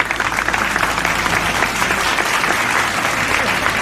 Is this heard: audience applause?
yes